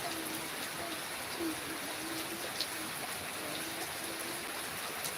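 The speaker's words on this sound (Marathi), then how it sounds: "खूप पाऊस चालू आहे" Heavy rain falling as a steady, even wash of hiss with faint scattered drips and patters, continuous and moderately quiet, with no clear voices.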